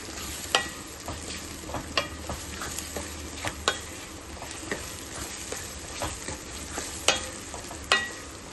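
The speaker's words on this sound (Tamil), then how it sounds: "இந்த ஸ்டேஜில் நம்ம வெட்டி வச்சுருக்க கத்திரிக்காயை போட்டுக்கலாம்" Chopped brinjal sautés with onion and tomato in oil, giving a continuous soft sizzle punctuated by regular scraping and tapping stirs of a spoon in the pan, close and unaccompanied by talk.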